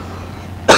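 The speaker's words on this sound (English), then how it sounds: "I'm coughing." A short, loud cough bursts out near the end of a quiet stretch, close and alone, from a character in the Indiana Jones and the Staff of Kings zeppelin finale.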